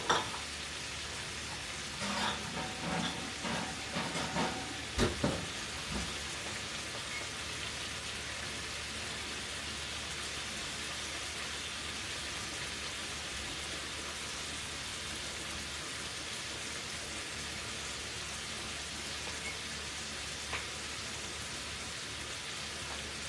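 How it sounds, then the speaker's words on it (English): Shrimp frying in a pan gives a steady, faint hiss of sizzling oil for the whole stretch, with a few soft clicks and clatters near the start. "Frying the shrimp."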